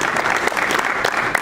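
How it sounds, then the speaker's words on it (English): A crowd at the Florida Blockchain Conference claps for the opening, a dense, sustained round of applause filling the room, brief and steady throughout. "Let's get a round of applause."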